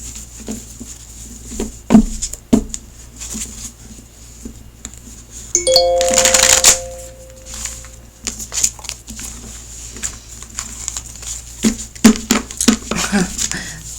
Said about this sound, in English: Bell for confirmation.